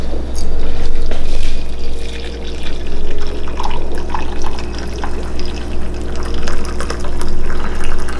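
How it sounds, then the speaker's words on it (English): Freshly brewed coffee poured from a stovetop pot just off the burner, a steady close liquid stream running for several seconds with small splashy surges and no talking. "take it off the burner and pour."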